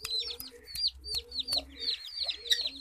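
Chickens in a Pakistani village yard, kept alongside pigeons, giving a series of close, repeated sharp clucks and short squawks in an uneven rhythm.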